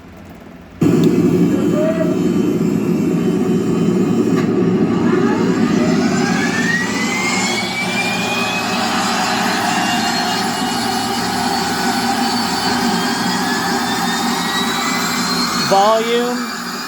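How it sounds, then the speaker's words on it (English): AT-802 aircraft sound board playing an engine start effect: a whine spins up into a steady droning turbine roar that holds loud and continuous, with a rising tone sweeping upward. "The engine start sound is this one."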